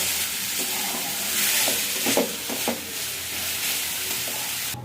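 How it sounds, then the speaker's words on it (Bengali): Red amaranth greens frying in a pan, a steady sizzle with a few scraping stirs of the spatula, close and continuous. "অল্প একটু সময় ভেজে নেব"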